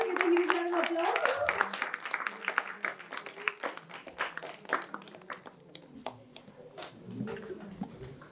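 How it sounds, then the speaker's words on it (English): An audience at a morning talk session claps and applauds to welcome contestant number 12, producing a dense burst of clapping that thins into scattered claps, with voices talking over it. "Let us welcome contestant number 12 with a huge round of applause."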